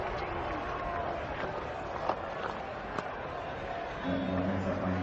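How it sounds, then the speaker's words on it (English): A cricket crowd at the WACA calls out and murmurs in a broad, continuous roar of distant voices, rising slightly near the end, with a few sharp thuds along the way. "The crowd are calling for it."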